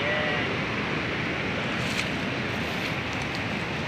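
A small waterfall in Jaborandi, Bahia, gives off a loud, constant rush of flowing water, a dense unbroken roar heard up close with no talk.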